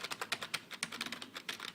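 Rapid, fairly even key clicks on a computer keyboard as a short phrase is typed, close but quiet, with no talking.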